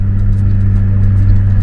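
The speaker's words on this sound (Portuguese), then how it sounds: "Ó, subidinha de quarta. Motor no giro, ó. 3 mil giros de quarta." Renault Laguna Nevada engine pulling uphill in fourth gear at around 3,000 rpm: a loud, steady droning rumble heard from inside the car throughout.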